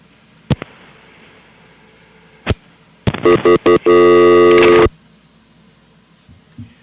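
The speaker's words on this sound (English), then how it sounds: "There's my freaking dial tone." A few clicks, then a series of short tone bursts lead into a steady electronic telephone dial tone lasting about a second before cutting off.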